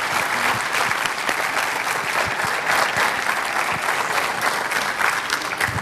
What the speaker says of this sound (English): we want to give Gary a big round of applause